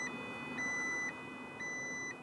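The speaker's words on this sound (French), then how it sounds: "l'alarme de levage a bien fonctionné lorsqu'on l'a activée, mais elle n'a émis que 50 décibels" The lift alarm of an Ecovacs O500 Panorama robot lawn mower sounds as a faint, steady electronic tone that alternates between two pitches about every half second, repeating without pause and with no voices.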